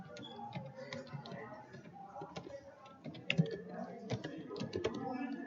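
Code being typed on a computer keyboard in a quiet room: steady, close clusters of light key clicks with small pauses between bursts, no voice over them.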